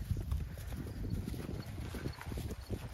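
Horses being ridden outdoors clip-clop with a steady, fairly quiet rhythm of hoofbeats, heard alone without talk.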